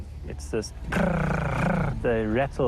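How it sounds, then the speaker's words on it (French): Harsh honey badger growls and guttural roaring snarls come in short bursts and longer rumbling stretches, close and loud. "Les ratels émettent des grognements très particuliers."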